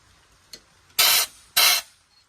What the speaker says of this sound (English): let me put the other nozzle on it. So that way it sprays it backwards